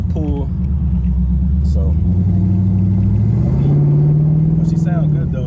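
LS-swapped Monte Carlo pulling hard on a back street, its engine note rising steadily and loud from inside the cabin, with someone briefly speaking over the drone.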